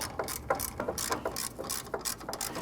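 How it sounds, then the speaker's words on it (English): A hand ratchet clicks in quick, uneven bursts while tightening the hood latch bolts on a 1994-2004 Ford Mustang, close and clear with no talking. "let's go ahead and tighten down our bolts"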